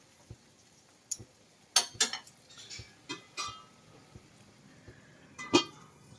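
A lid goes onto a pan of simmering pabda fish curry, giving a few quiet, scattered metallic clinks and taps, with one sharper clank near the end.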